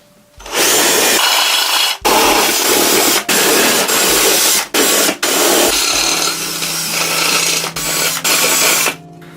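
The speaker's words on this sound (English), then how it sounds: "Then you can enlarge the holes using one of these stepping bits, or by just picking out the correct size bit." Hand drilling of holes in a metal guitar pedal enclosure: loud, grinding drill bursts broken by brief pauses, close up with no talk.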